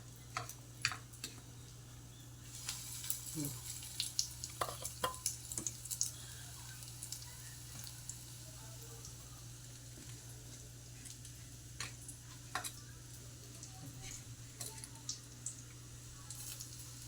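Chaap coated in spiced egg with semolina and coriander fries in butter with a quiet, continuous sizzle. Scattered ticking crackles and pops sound throughout, close and fairly faint.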